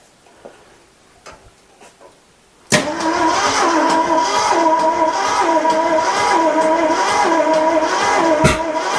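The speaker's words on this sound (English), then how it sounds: "Oh, we got a backfire." A 1964 Ford Custom 500 with a 289 V8, just freed from seizure, fires with a sudden sharp bang after near silence, then runs loud and rough with a steady close engine roar and another pop near the end.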